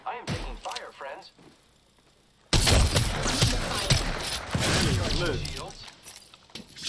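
Gunfire and impacts in Apex Legends, with a quieter stretch giving way to a sudden loud burst of dense shots, thuds and crashing effects that carry on beneath a player talking.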